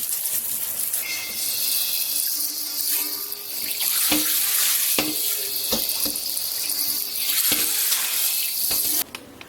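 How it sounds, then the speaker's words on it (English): Cold tap water gushes and splashes into a pan being rinsed and then into a bowl being filled, a continuous close hiss of running water broken by a few clanks of cookware. "We're going to rinse this out and get a fresh bowl of cold water."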